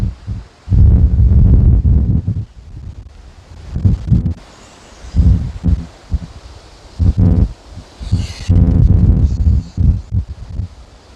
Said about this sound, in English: you can see this the strength of the wind